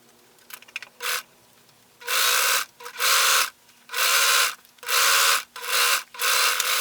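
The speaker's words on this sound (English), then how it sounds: "I'm going to use a serger and serge around the bottom edge of the sleeve" A serger stitches along the bottom edge of a blouse sleeve, running in several loud, buzzing bursts of about half a second to a second each, with short pauses between runs.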